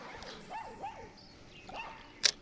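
A dog beside a local pond gives a few soft, rising yips and whines at a moderate distance, followed by one sharp higher-pitched bark at the end.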